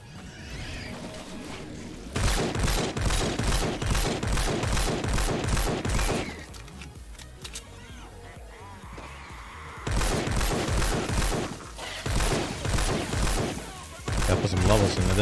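Rapid bursts of automatic shotgun fire from a Fortnite: Save The World weapon, loud and close, coming in long rattling volleys separated by quieter pauses, with game sounds underneath.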